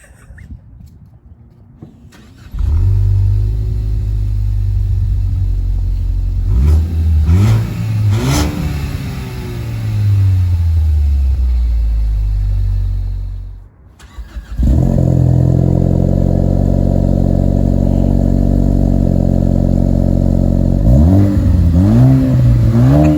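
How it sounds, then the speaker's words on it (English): A stock-exhaust Ford Focus ST engine cranks and starts, then idles and revs repeatedly, cuts out briefly, and starts again with several loud throttle blips through the exhaust. "here's the clip we did in the daylight of the stock exhausts"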